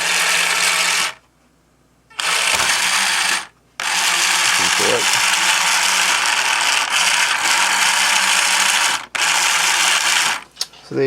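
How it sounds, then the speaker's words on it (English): Lego robot gear assembly driven by a Raspberry Pi, whirring and ratcheting loudly in long continuous bursts broken by two short pauses, close up with no talking. "You can hear the gears working are quite noisy."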